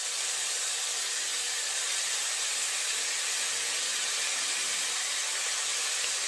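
Turmeric powder and ginger paste sizzle in hot oil with bay leaves, dried chillies and cumin, a steady loud hiss that holds evenly throughout with no talk.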